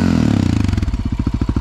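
A Yamaha Raptor 700 quad engine with a Yoshimura exhaust running without its baffle, close and loud, settling from a fast throbbing idle into slower, distinct, heavy pulsing firing beats.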